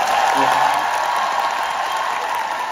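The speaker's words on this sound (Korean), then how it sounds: "다시 한번 박수 부탁드리겠습니다" Audience applause at a concert encore with a band: a dense, steady wash of clapping from a large crowd, holding at an even loudness throughout.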